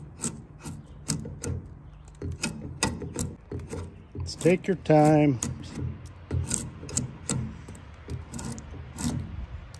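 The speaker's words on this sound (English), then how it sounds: "you can see with a good sharp draw knife, don't take long" Rough scraping and rasping strokes of a sharp draw knife peeling wood off a log repeat in uneven bursts, close up, with a brief creaking squeal midway and a voice speaking.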